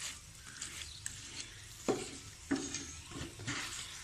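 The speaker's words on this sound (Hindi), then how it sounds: "और आराम से मिक्स करूँगी।" Potatoes and softened capsicum are stirred in a pan for aloo manchurian, with a steady soft sizzle under the mixing and two sharper scrapes of the spoon against the pan.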